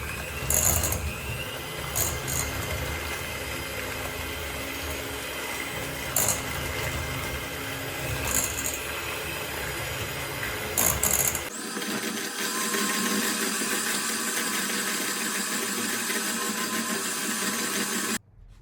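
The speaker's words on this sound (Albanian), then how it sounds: "tash ja shtojna 3 vezë dhe masën e rrahim mirë me mikser derisa vezët të vendosen në brendësi të brumit" Electric hand mixer beating choux pastry dough after three eggs are added, a steady loud whirring drone that shifts to a higher, harsher pitch partway through, with no talk.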